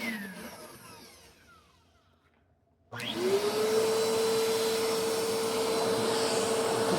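A Eureka AirSpeed NEU100 upright carpet vacuum cleaner is used on a sofa. It starts up after a quiet moment, then runs as a loud, steady motor whine with rushing suction.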